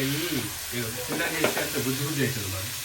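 Goat head curry with turmeric sizzles steadily in a pan while being stirred, a close frying hiss with scrapes beneath a voice talking throughout.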